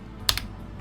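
A few quick keystrokes on a computer keyboard, two close clicks in a short burst, heard alone and close up.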